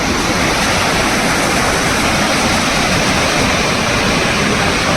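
Steady rushing roar of McDonald Falls, a small waterfall on a river in Glacier National Park, Montana, dense and constant throughout with no gaps.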